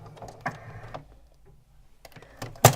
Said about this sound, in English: I'm just going to sew to where the pin is, but I'll just remove it and then I'll just do a back stitch